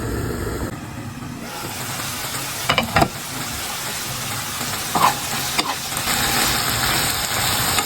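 A sauce reduces in a pan, bubbling and sizzling steadily at close range, with a few sharp utensil clinks against the pan partway through and no voices.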